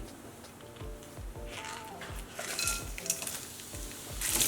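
Whole spices (cardamom, cloves, cinnamon, cumin, ginger) frying in oil on a low flame, a steady close sizzle with repeated stirring and scraping of a utensil against the pan throughout.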